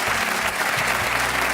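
A French radio show's studio audience claps in steady, dense applause that fills the whole moment at an even loudness.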